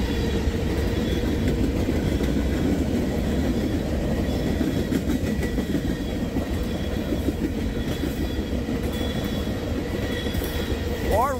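A CSX freight train carrying rubbish rolls steadily past close by, a loud continuous rumble of rail cars with clattering wheels and a short squeal near the end.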